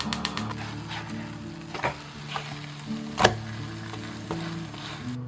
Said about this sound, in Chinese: 然后开小火煎了。